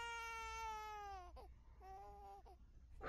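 Baby crying as a sound effect in a Japanese ghost story narration, a drawn-out wail followed by two shorter sobbing cries, faint and heard alone.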